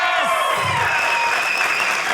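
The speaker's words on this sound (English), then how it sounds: "Clap it up if you..." Audience applause and cheering at a stand-up comedy special, a steady wash of crowd noise throughout this short stretch, with a brief vocal sound near the start.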